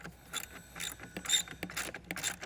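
A 10 mm ratchet removes a nut from a stud while a tail light converter is fitted to a 2023 Chrysler Pacifica. Close, quick bursts of metallic clicking repeat steadily over a low background.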